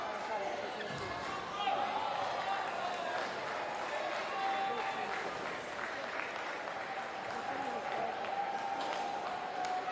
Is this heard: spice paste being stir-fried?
no